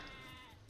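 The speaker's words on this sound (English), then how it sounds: "Sheep." A sheep in Age of Empires II gives a single short bleat, a quiet wavering cry heard alone without any talking.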